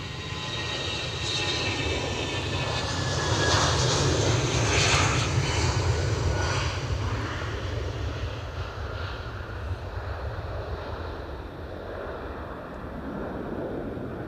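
A British Airways airliner rolls for takeoff at Edinburgh Airport, a broad roaring engine rumble swelling to a peak midway and then fading slowly, heard from a distance outdoors with wind noise over the microphone and no talk.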